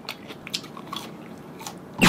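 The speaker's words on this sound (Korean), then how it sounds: "따뜻할 때 먹으니까 바삭하니까 훨씬 맛있어요." Crisp bites and crunchy chewing of a warm, thin-crust steak pizza, close and fairly soft, with several crackly crunches spread over about two seconds and a louder rustle at the end.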